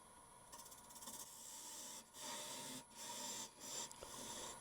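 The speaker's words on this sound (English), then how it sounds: "I'm going to make a parting tool cut there." A parting tool cuts into an end grain wooden bowl spinning on a lathe, giving a steady hissing scrape broken by a few brief pauses as the tool lifts and returns, quiet and close.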